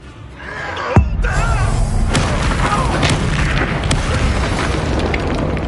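A Bombarda spell going off in a video game: one loud, deep boom with a sharp onset, followed by a sustained rumbling, crackling wash of debris and noise that stays loud to the end.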